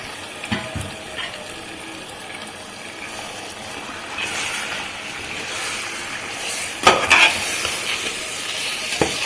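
Washed mutton pieces sizzle in a pan with salted, softened tomatoes for mutton biryani, a steady close hiss broken by spoon scrapes and a sharp clatter of stirring.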